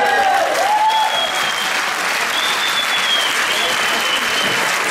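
Audience applause fills a folk dance competition stage at Gourin, the Rond de Saint-Vincent contest, for performer Gilbert Bourdin; steady, dense clapping from a crowd holds for the whole stretch, with faint voices and a whistle-like tone riding on top.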